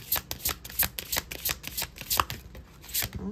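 Tarot cards are shuffled close up in quick rhythmic riffles, a steady run of crisp papery bursts with no talking.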